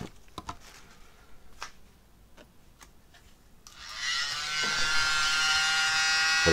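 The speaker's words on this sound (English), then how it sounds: "grab my little mini blower" A small handheld mini blower starts up after a few scattered clicks, rising into a steady, loud whirring hiss that holds to the end while spreading cell activator.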